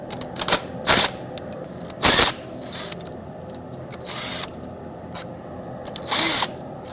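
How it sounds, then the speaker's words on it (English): Short bursts of a power tool or ratchet working a 12mm socket on the fuel rail bolts of a 2003-2008 Toyota Corolla, several quick whirring spurts spaced over a few seconds, close and fairly loud, with no talking. "let's get a 12mm socket and unbolt these 2 bolts that hold the fuel rail down"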